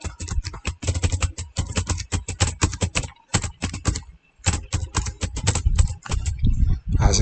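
Quick bursts of keystrokes on a computer keyboard typing a short memo in accounting software, close and crisp, with brief pauses between words.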